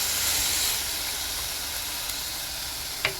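Thin, finely cut strips of beef sizzle steadily in a covered pan while ginger fried rice is being made, a continuous broadband hiss with a brief clatter near the end.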